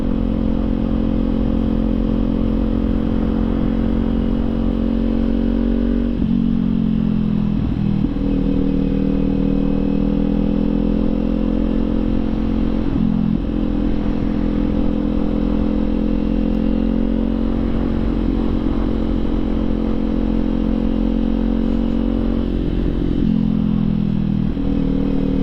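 A Kawasaki Z400 motorcycle engine runs loud and steady while riding on a road, its drone dipping and climbing with several gear changes and throttle shifts, with no talking.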